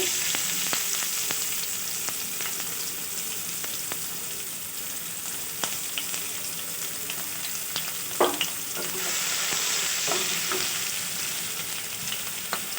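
Chopped onions sizzle and crackle in hot oil, with occasional sharper pops and stirring scrapes; no talking.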